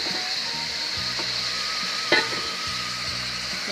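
Pumpkin and onions sizzle in a frying pan as a utensil stirs through them, with a few scraping strokes and one sharper clink over the constant frying hiss.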